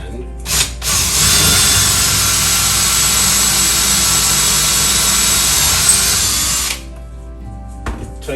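A power drill drills a hole in a cabinet using a Kreg cabinet hardware jig, whirring loudly and steadily for about six seconds, starting and stopping abruptly, close by.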